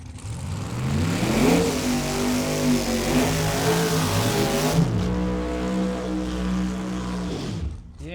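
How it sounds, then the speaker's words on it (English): A drag racing car doing a burnout on a no-prep dragstrip roars loudly, revving up and down across several seconds, with a harsh, sustained tyre-spinning drone before the sound drops off. "I'm guessing they'll do some nice long burnouts here"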